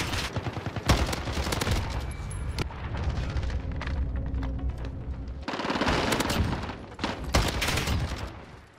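Sustained rapid fire from a Galil AMAX assault rifle in a first-person shooter video game, loud and dense with booming impacts, a brief lull in the middle, then another heavy burst of shots.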